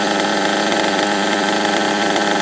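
A small nitro engine idles steadily after being turned upside down, giving a loud, close, continuous buzzing drone with a slight rapid flutter and no talking.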